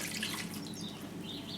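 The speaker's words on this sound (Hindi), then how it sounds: "ये मिक्स हो गया, ये चला गया बीच में पानी।" Water poured into a pan of chicken changezi gives a soft, close trickling and dripping, faint and brief, with no talk.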